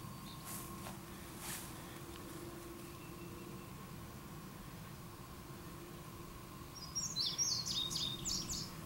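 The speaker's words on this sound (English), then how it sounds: "All right, bird, you can stop right now." A bird sings in short bursts of high chirps near the end, faint over a steady outdoor hum and noise.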